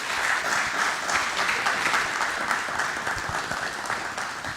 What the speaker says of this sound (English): If you guys give our panelists a round of applause